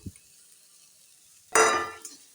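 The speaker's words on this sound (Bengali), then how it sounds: "তো চালটা দিয়ে আমি কষে নিচ্ছি ভালোভাবে।" Rice and banana stem being stir-fried in a pan with a little sugar: after near silence, one short, loud burst of scraping sizzle with light clinks lasts about a second before fading.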